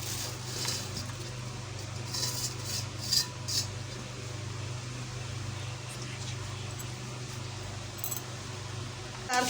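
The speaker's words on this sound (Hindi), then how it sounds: "डाल के मैंने मिक्स कर लिए" Panjiri ingredients being stirred and mixed in a pot produce faint, scattered clinks and scrapes of a spoon against metal over a quiet, low hum.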